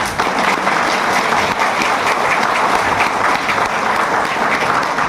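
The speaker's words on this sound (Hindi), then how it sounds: "गुरुजी के लिए तालियां थोड़ा कम बज रही है।" A large audience at an AWPL achiever celebration claps for the guru in a loud, continuous wash of applause. It stays even and sustained throughout, with no clear voices over it.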